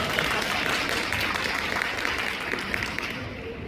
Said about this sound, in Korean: 박수 주셔서 감사합니다